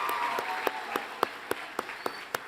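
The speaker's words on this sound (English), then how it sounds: "let's give one more round of applause to all of our award winners" Crowd applause at an arts and media awards ceremony keynote, a steady wash of many hands with a few sharper individual claps standing out near the close, moderate level and no one speaking over it.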